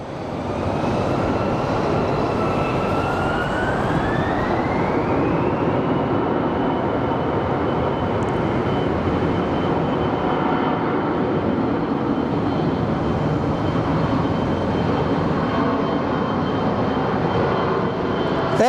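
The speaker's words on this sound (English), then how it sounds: "I think the taxi lights are on the Sun Country flight, which means he should be on a roll very shortly." A Sun Country airliner at Sky Harbor Airport starting its takeoff roll, a loud steady jet engine roar with a rising whine that holds constant and sustained, heard from nearby with no voices.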